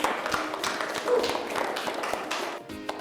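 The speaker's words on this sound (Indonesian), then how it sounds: "kasih tepuk tangan dulu semua" A classroom group in a university lecture claps together, a brief scatter of hand claps and taps at moderate distance, fairly quiet and fading near the end.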